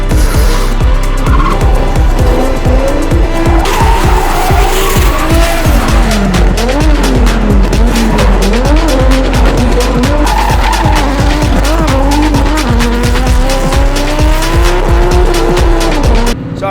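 Drift cars on warm-up laps at a European drifting event scream past with loud, sustained tire squeal and skidding, engines revving and wailing up and down, close and intense for the whole stretch.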